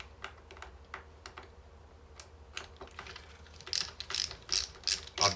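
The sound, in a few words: ratchet removing bass guitar neck bolts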